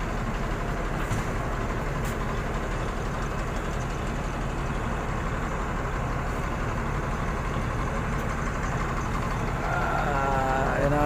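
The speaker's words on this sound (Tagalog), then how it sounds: "Yan ang truck namin. Ayun na pa nag-aantay." A waiting truck idles steadily outside a plastics plant in Marilao, Bulacan, with a constant low engine rumble running unbroken for the whole stretch and a faint rise near the end.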